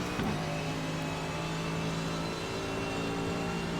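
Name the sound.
Mercedes AMG GT3 engine braking and accelerating in iRacing, video game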